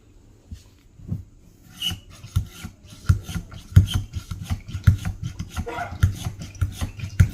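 Staresso manual espresso maker with a non-pressurized basket pumped for pre-infusion, heard as close, rhythmic rasping strokes that begin sparse and grow steadily louder and quicker.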